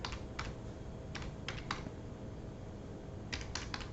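A website address is typed on a computer keyboard: quiet, close key clicks come in short bursts with brief pauses in between.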